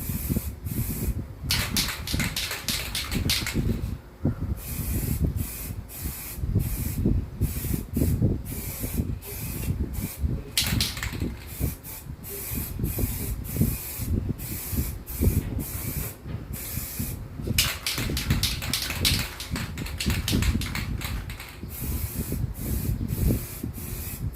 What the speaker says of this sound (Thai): ก็พยายามพ่นไปเขย่าไปเรื่อยๆนะครับ เพื่อที่จะให้สีแตกตัวดีนะครับ